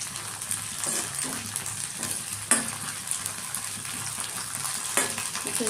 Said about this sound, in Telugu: వెల్లుల్లిపాయలు కూడా పేలుతాయి, చూసుకోండి జాగ్రత్తగా.